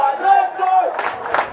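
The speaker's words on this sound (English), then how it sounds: "And the chant's gone up in the crowd." A stadium crowd at a rugby league match raises a loud, sustained chant that swells into roaring cheers, filling the space with a dense wall of voices.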